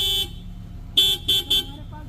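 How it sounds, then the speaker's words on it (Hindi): Horn of a new 2025 Honda Amaze car, sounded close and loud: one short honk followed by three quick bursts over an idling engine, with no talking. "यह है होंडा की गाड़ी में जो हॉर्न आती है"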